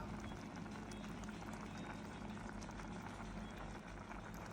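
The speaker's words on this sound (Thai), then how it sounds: "ปล่อยทิ้งไว้ให้เดือดสักพักนะครับ" A pot of Thai kaeng om curry with fermented pork, seasoned with fermented fish sauce, simmers on the heat, giving a faint, steady bubbling hiss throughout.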